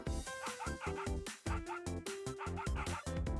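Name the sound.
dog barking in the video game Nikke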